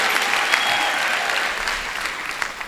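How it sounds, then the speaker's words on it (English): Graduation ceremony audience clapping for the Vice Chancellor at an autumn university ceremony, a dense sustained round of applause from a large hall crowd, steady and fairly loud throughout. "Can we give the Vice Chancellor a big round of applause?"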